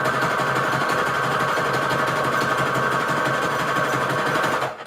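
A sewing machine stitches red Christmas fabric and lace trim together, running in one continuous, close, loud whir before stopping abruptly at the end, with no talking.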